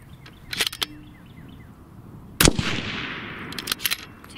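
A custom Impact 737 rifle chambered in 6.5 Creedmoor fires a Hornady ELD bullet outdoors as one sharp, loud shot with a trailing echo. Faint bird chirps are heard before it.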